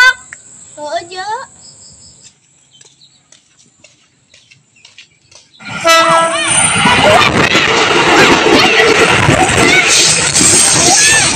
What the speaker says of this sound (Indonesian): itu kan si Petit Seresta lagi nungguin kereta.